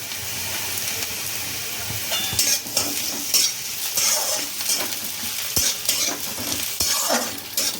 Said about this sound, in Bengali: এবার রসুন কুচিটা দিয়ে আমি একটু ভালো করে একটু লাল করে ভেজে নেব